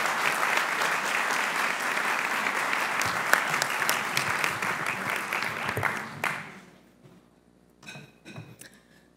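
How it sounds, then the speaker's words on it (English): An audience at a whistleblower day event applauds steadily for about six seconds, the clapping then fading out to a few scattered claps and small clinks. "So everybody give a round of applause for Jane."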